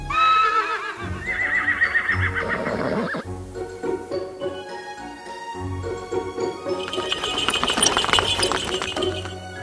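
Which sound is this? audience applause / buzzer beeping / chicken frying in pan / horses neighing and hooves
horses neighing and hooves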